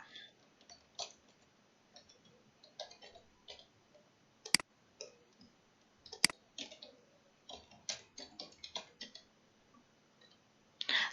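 A computer mouse gives sparse, faint clicks while selecting a login menu on screen. The quiet, irregular taps are scattered over a near-silent background, with two sharper, louder clicks standing out.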